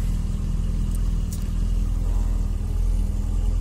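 An Opel Calibra idles just after a hard cold start in deep winter frost of below minus 20, a close, loud, steady low rumble with an even engine pulse and no talking.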